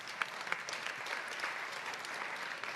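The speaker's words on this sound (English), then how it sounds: "Please give yourselves a round of applause." Participants at a senior-level meeting in the ECOSOC chamber in New York applaud. Dense clapping fills the room steadily for a few seconds and stays at a moderate, even level, with no voices over it.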